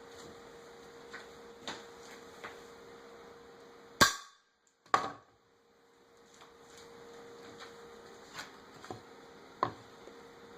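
Two sharp CO2 pellet pistol shots strike a wooden fence board outdoors, a couple of seconds apart, each a loud crack with a brief ring, set against faint ticks and clicks between them.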